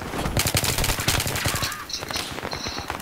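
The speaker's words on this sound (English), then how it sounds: "the M417 doesn't shoot that fast and be that accurate" Rapid bursts of M417 rifle fire in Battlefield on the Wake Island map, loud and dense shots rattling close for the whole stretch, with no voices over them.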